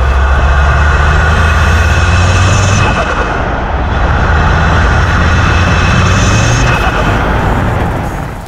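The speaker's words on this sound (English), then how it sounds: "the intake sound is unreal to hear the 5-cylinder RS3 and the wastegate noise" An Audi RS3 five-cylinder engine with an Eventuri intake, driven in snow, gives a loud, close, throbbing intake roar with wastegate hiss that swells and eases through several rev changes before tapering off.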